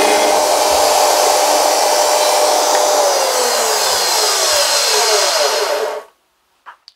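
A drill bores holes while a TV stand is being built, a loud continuous whirring drone that runs steadily for about six seconds, then stops abruptly, followed by faint clicks.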